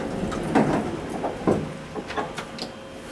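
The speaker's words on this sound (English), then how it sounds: "Oh, the door closed, but works." Door of an old Otis elevator in a Richmond office building sliding shut, a few soft rumbling thumps and scraping clunks spread over a few seconds, close by with no talk.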